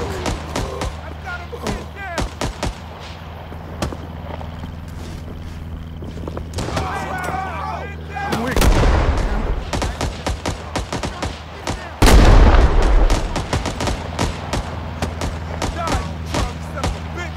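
Gunfire and artillery in the Vietnam War shooter Rising Storm 2 Vietnam, with a reality mod: scattered shots and distant rumbling throughout, heavier blasts around the middle and a loud impact near the end, with voices talking over the battle.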